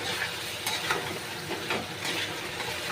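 A spoon scrapes and stirs methi chicken kanti in a pan, with soft rhythmic scraping strokes over a low sizzle, close and fairly quiet.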